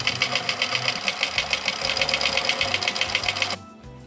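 A sewing machine sews ruffles on blue fabric strips for 18th-century pockets, a fast, even mechanical clatter running steadily up close before cutting off abruptly near the end.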